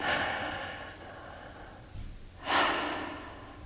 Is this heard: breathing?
yes